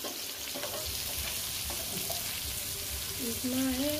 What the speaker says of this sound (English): So again, a little stir fried here